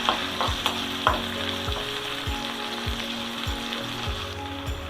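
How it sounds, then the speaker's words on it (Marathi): Onion sautéing in oil in a pan for pohe, a steady close sizzle with regular stirring strokes at about two per second and a few sharper clinks near the start. "आता हा कांदा थोडासा परतायचा, थोडा किंचितसा लाल होऊ द्यायचा आहे"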